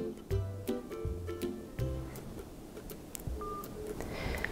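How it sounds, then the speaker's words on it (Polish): Smartphone placing a call: a run of distinct DTMF dialing tones, each short steady beep followed by brief gaps, clear and close with no talk over them. "Wówczas nasz telefon wykona połączenie do tej właśnie osoby."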